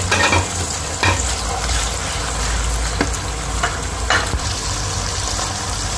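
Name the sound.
minced meat added to pan and frying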